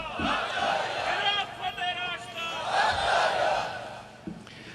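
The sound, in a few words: crowd chanting slogans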